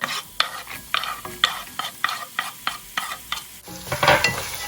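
Chopped onion hits a hot pan with spices for a Rajasthani red chicken curry, a brisk sizzle under rhythmic scraping strokes of a utensil, then a louder burst of frying near the end, all close up.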